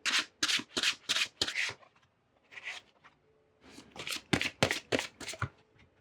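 Oracle cards shuffled for a tarot reading, a quick run of crisp riffling bursts, a pause, then a longer series of close, bright shuffles with no talking.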